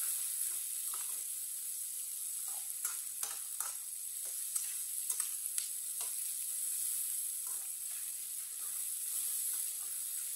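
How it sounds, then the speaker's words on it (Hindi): Tomato and green chilli cook in a pan for an egg and bitter gourd curry, a steady soft sizzle with scattered scrapes and clinks of stirring throughout, no voices. "टमाटर और सब्ज मिर्च को भी 1 मिनट के लिए पका लेंगे।"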